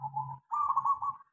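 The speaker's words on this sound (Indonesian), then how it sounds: "biar perkutut itu mau ngeluarin suara aslinya" A zebra dove (perkutut) calls with a short two-part cooing phrase, close and clear against a quiet background with no other sounds.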